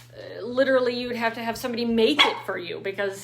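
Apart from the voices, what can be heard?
puppy barking in the background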